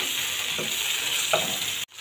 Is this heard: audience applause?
no